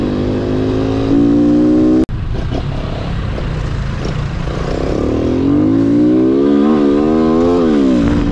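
Honda Wave S motorcycle engine revving loudly and close, a steady buzzing drone that briefly cuts out, then climbs and falls in pitch through repeated throttle blips.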